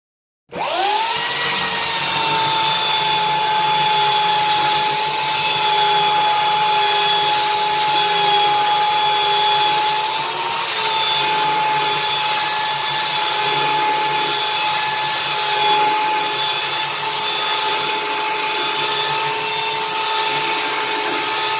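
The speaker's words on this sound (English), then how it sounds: "I got my sander here and I'm just gonna sand it up" Power sander working a cedar cutting board, starting abruptly and holding a steady high-pitched whine with a rough scratchy grinding texture throughout, close and loud.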